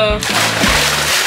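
A water balloon hits a backyard swimming pool with one loud, broad splash at the start, followed by a second of sloshing and rippling water nearby while a voice speaks over it.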